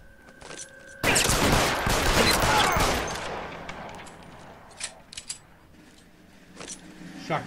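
Gunfire in L.A. Noire, a sudden loud burst of shots that opens a dense, noisy stretch of about two seconds, then fades into scattered sharp cracks and clatter, with talk nearby.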